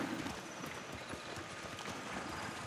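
Horse hooves clip-clopping on terrain in Ghost of Tsushima near an enemy camp, a steady run of soft thuds beneath a constant ambient game bed, moderately loud and continuous.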